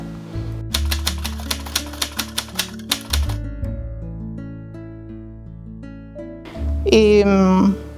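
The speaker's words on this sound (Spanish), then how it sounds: "Para mi labor de corresponsal, yo también contaba con una máquina de escribir" An old mechanical typewriter used by a correspondent clacks in a rapid run of evenly spaced keystrokes, then pauses under a sustained musical backing, with a voice singing near the end.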